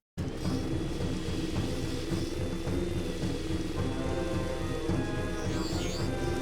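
Stormy weather in the video game Jak 3, with steady dense rain hiss and low rumbling thunder running continuously throughout and no voice over it.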